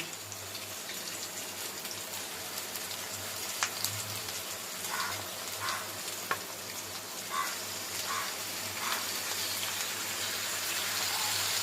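Mutton meeting hot oil with fried onion, potato and papaya in the pan gives a steady, fairly quiet sizzle with a few soft crackles and pops, no one speaking.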